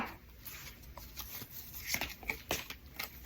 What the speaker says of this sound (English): Try to mix them up a bit and give a good shuffle before we move on.